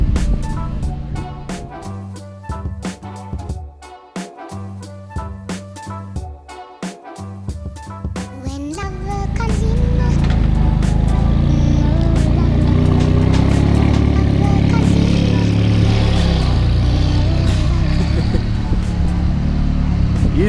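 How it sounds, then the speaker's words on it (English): McLaren 570 sports car pulling away and leaving; engine noise swells into a loud, sustained roar, with voices in the scene. "just like that, the McLaren is gone"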